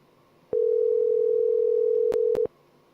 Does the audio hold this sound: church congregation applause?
no